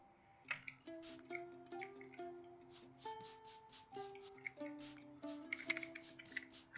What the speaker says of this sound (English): So now we can spray stuff.